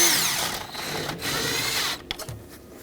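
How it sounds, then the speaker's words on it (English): Rapid mechanical whirring and clicking as a 10mm socket snugs up bolts on a 2013-2020 Nissan Pathfinder during an input speed sensor replacement, steady for two seconds then breaking into short bursts. "Got a 10mm socket, tighten these both up."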